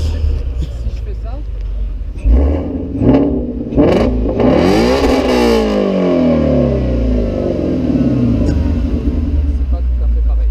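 A Mustang Shelby 350GT idles with a deep rumble, then its engine is revved in a couple of sharp bursts and a long rising then falling roar, heard close and loud, with voices around it.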